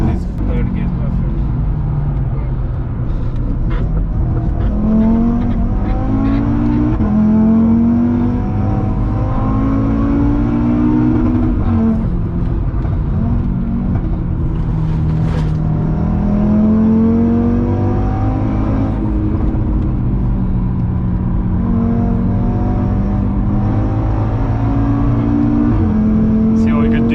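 An Audi RS3 engine pulls steadily in third gear on the Nurburgring, a continuous loud drone with rising and falling pitch sweeps as it accelerates through corners, with voices talking over it.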